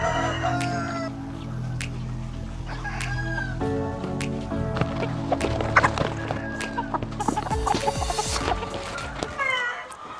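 Female Buff Brahma chickens cluck and squawk in agitated bursts while being caught and handled, close by, with rustling and scuffling among them.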